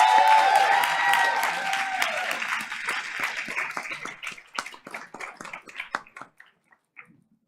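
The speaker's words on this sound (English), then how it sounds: "Please put your hands together as we introduce Principal Dory Stratton." An audience at a Board of Education meeting applauds a school achievement award, beginning as a loud dense wave that gradually thins to a few scattered claps and fades out.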